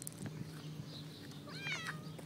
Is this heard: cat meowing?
yes